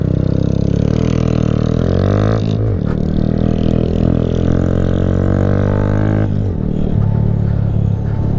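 Giveaway motorcycle revving and accelerating through gear changes, a loud close engine climbing in pitch, dropping at each shift and pulling again, steady with no talk over it.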